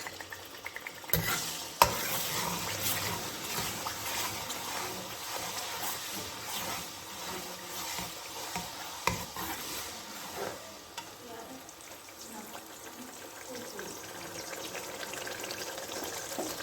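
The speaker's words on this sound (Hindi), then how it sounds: "ये फ्राई प्याज का पेस्ट ऐड कर देंगे ऑयल में" Fried onion paste hits hot oil in a pan for a potato and egg curry, sizzling steadily while a spoon stirs and scrapes through it, with a few sharp clanks near the start.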